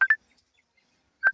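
Phone keypad tones from a call being dialed: a pair of short electronic beeps, a long silent gap, then another pair of close, clear tones, with no talking.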